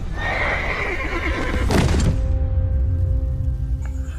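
A horse whinnies loudly with a rising, quavering neigh, followed by a sharp burst of louder noise and then a steady low rumble as the call fades out.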